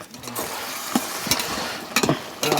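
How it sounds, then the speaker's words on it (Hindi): A vegetable curry cooks in a pan after tempering, with steady sizzling and a few clattering stirs at irregular intervals, close and moderately loud with no one talking. "बस छौंका लगा दिया, अभी पकेगा थोड़ी देर।"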